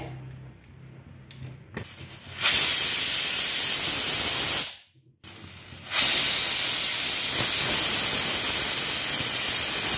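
Steam hisses loudly and steadily from a pressure cooker whistle, breaks off for about a second, then hisses again at full strength close by, with no talking.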